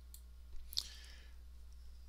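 A single mouse click on a computer, short and faint, standing alone over a low steady hum.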